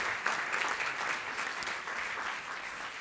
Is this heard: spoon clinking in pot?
no